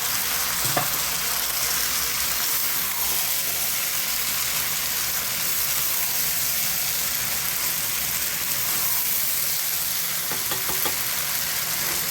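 Soaked rice and chicken stir-frying together in a pan for chicken biryani, a steady close sizzle with scraping stirs and occasional clinks throughout, no talk.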